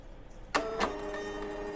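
A thermal waybill printer prints shipping labels, giving two quick mechanical bursts followed by a steady close whirring feed with no voices.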